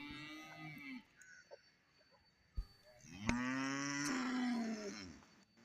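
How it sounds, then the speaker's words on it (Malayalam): Young Murrah buffalo calves bellow at a cattle market, two drawn-out nasal moos, the second louder and longer, with a sharp knock between them and quiet surroundings. "ചെറിയ മുരികുട്ടികൾ ഇവിടെ നിൽപ്പുണ്ട്"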